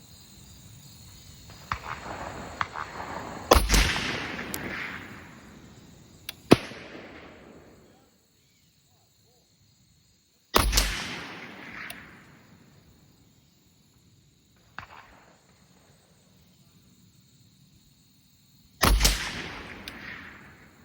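Three rifle shots from a Hi-Lux M40 sniper rifle firing 175 grain Federal Gold Medal Match ammunition, each a loud sharp crack followed by a rolling outdoor echo, spaced several seconds apart.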